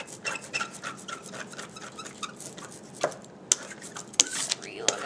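An ink roller works ink across a printmaking block in repeated short rubbing strokes, close and fairly quiet, with a few sharper ticks near the end and no talking.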